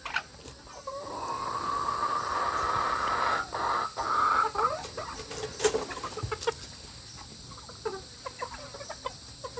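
Chickens cluck and murmur close by in an ongoing, uneven stream, with occasional sharper squawks and scattered outdoor noises.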